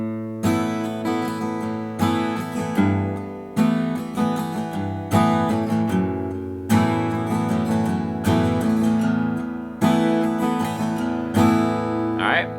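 An acoustic guitar strums the chord pattern of a song, played solo and close in steady rhythmic bars, each strum ringing out brightly with a short pause between phrases.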